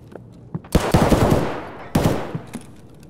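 Bursts of gunfire in the tactical shooter Raid, two loud volleys of rapid automatic fire with a few scattered single shots between them, close and dense.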